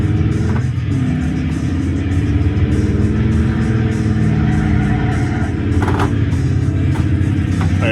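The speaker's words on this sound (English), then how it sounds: "But I know you can hear that engine." Racing video game car engine played through a subwoofer and bass shaker, a steady droning mechanical hum with shifting revs and a few brief knocks, heard in a room at moderate loudness.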